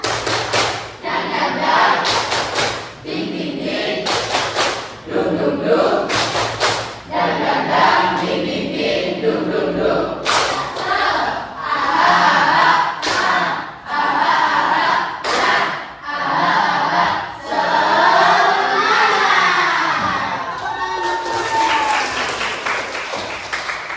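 A classroom group performs a rhythmic clap chant, sharp unison claps in patterned bursts interleaved with rapid clapping runs, loud and close for about twenty seconds, with voices faintly mixed in.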